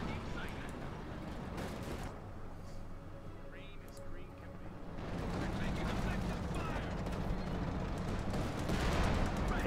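Tank gunfire and explosions from a Sherman in the Company of Heroes 2 strategy game, a couple of booming shots with sustained rumbling battle noise that grows louder toward the end.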